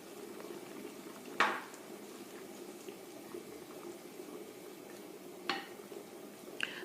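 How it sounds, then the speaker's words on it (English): Chicken liver and gizzard curry with tomatoes and potatoes is stirred in a pot over a steady sizzle, with a few sharp utensil clanks against the metal, close and quiet with no talking. "Mix it well."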